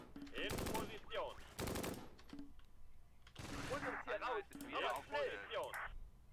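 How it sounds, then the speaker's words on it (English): Gunfire from the Close Combat World War II strategy game, Battle of Mouen near Caen: bursts of rapid machine-gun fire and shots in clusters, loud and fairly near, with a voice talking over and between the bursts. "It seems we are taking fire down there."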